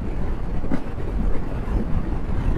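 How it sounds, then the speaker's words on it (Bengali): A train rolls past on a rural route between Malda and Bolpur, a continuous low rumble that holds steady for a few seconds, heard from nearby with some wind buffeting and no voices. "এই যে এখান দিয়ে একটা ট্রেন পার হচ্ছে"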